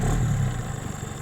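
A Mercury 15 hp (10M) outboard motor on a Grouper 360 boat starts, giving a short burst of low, throbbing engine rumble that settles into an idle within about a second.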